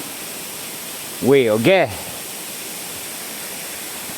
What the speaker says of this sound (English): This is a waterfall, friends.